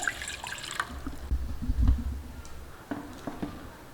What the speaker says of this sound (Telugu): నీళ్ళు పోసుకొని